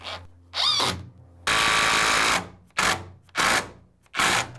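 A power drill drives short screws into a basement door frame in several bursts, one long run followed by short pulses with pauses between, close and loud.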